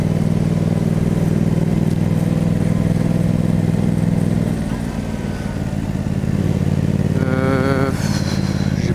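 A motorcycle rides through French traffic, its engine holding a steady, loud drone that dips and shifts midway as it slows, then picks up again. A voice can be heard near the end.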